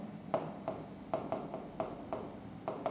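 Chalk writing out a trigonometry solution on a classroom board, a steady series of short scratchy strokes and taps about every half second, close and clear with no speech over it.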